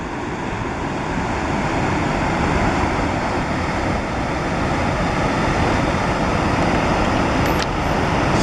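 Raging waterfall at Torres del Paine, a loud continuous roaring rush of water, broad and steady throughout with a light wind backdrop.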